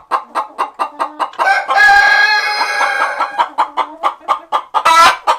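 A loud hen clucks in quick repeated bursts beside roll-away nesting boxes in a chicken coop, rising into a sustained squawking cackle midway before the steady clucking resumes, close and alone.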